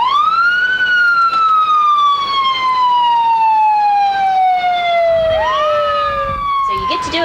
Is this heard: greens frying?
no